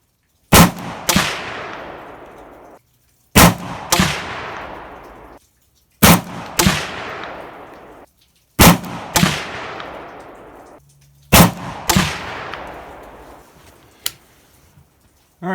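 A PSA AR47 7.62x39 pistol fired outdoors with a 10-round magazine, five loud, sharp reports at roughly three-second intervals, each followed by a metallic clang and a long ringing decay.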